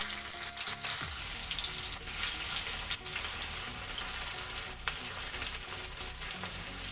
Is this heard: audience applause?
no